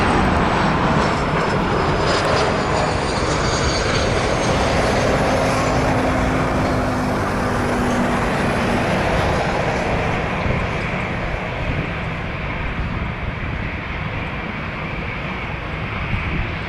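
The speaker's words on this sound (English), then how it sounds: "We do have an incoming Cessna citation." An arriving Cessna Citation business jet at Toronto Pearson produces a loud, broad jet roar with a high whine that builds and then slowly eases over a long stretch, without voices.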